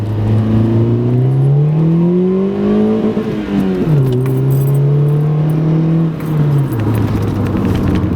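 A low-powered car accelerates hard from first gear, its engine note climbing steadily and dropping briefly at each upshift before rising again, loud and close throughout with no talking.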